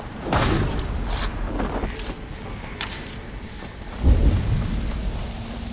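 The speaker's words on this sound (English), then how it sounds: "Storm brewing there." Thunder rolls and cracks over steady rain in the video game Assassin's Creed Valhalla, with a sharp crack early on and a deep, heavy rumble later, the downpour hissing underneath the whole time.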